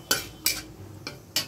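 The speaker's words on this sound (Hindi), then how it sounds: "सभी चीज़ों को अच्छी तरह से भून लेंगे।" Bay leaf and asafoetida are stirred and fried in a metal pan, with four sharp scraping clinks of a spoon against the pan at irregular intervals over a quiet background.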